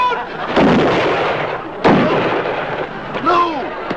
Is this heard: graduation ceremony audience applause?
no